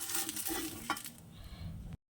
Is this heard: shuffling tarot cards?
no